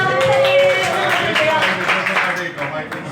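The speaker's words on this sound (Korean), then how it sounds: "박수 한번 주십시" Audience applause at a hold'em poker tournament final table, a steady wash of clapping that tapers off toward the end, with voices mixed in.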